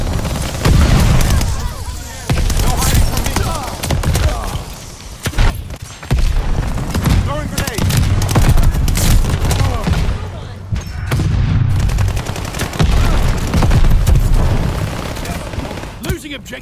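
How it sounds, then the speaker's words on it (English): Grenade blasts and gunfire in a Call of Duty Vanguard multiplayer match, with booming explosions and bursts of shots running almost continuously at loud level, mixed with in-game voice callouts throughout. "Throwing grenade."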